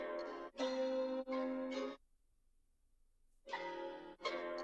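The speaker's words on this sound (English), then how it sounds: "Next up, we got this guitar phrase" A sampled guitar phrase plays in chopped segments, bright sustained notes cutting off abruptly, a gap of silence, then the phrase resumes.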